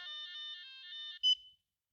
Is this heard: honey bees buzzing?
no